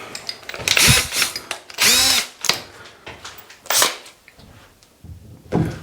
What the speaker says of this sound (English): let's get this drilled.